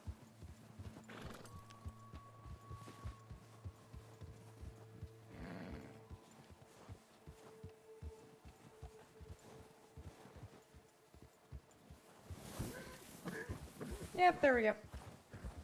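A horse walks a mountain trail, its hooves clip-clopping in a steady, close rhythm. A rider speaks briefly, and a louder whinny and scuffle rise near the end.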